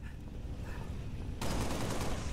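Gunfire in the video game Halo Reach: a faint, muffled background gives way to a sudden, dense burst of rapid shots that continues to the end.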